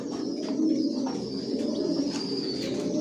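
Racer pigeons coo steadily in a continuous low, throaty murmur of many overlapping birds nearby, with a faint high chirp above and no speech.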